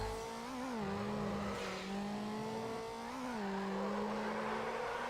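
A supercharged V6 car engine in the Need for Speed Underground racing game revs and holds a steady drone, its pitch dipping and climbing with gear changes, loud and continuous with no talk.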